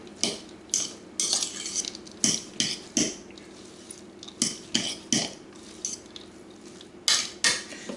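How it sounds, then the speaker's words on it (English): A spoon works drained dill pickle relish into a burger filling mixture in a bowl, with a steady run of rhythmic clinks and scrapes against the dish, fairly close and moderately quiet. "I'm going to mix that in."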